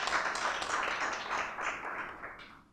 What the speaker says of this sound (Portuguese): parabéns, a salva de palmas ao garoto